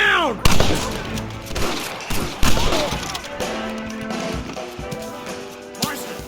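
Gunshots crack in a video-game shootout from Red Dead Redemption, several sharp loud reports scattered over a few seconds, mixed with shouted voices and game ambience.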